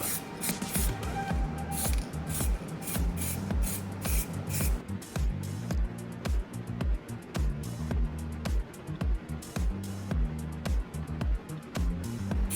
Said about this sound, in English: Spray a thin layer of paint on the steering wheel and the gear stick knob.